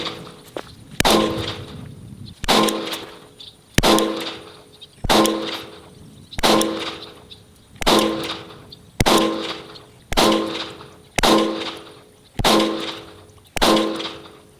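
A compact Glock pistol firing to empty its magazine: about ten sharp, loud shots spaced roughly a second apart, each with a ringing metallic tail, close up with no talking.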